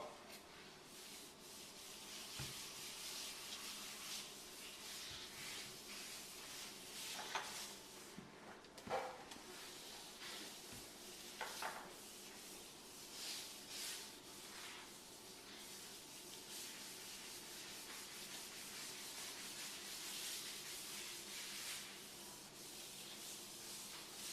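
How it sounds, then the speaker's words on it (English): Granite sealer is rubbed by hand along the edge of a light, porous granite countertop. The result is a steady, fairly quiet, continuous rubbing and swishing with a few brief scuffs, and no voices. "just squirt it into your hand and then rub it along the edge"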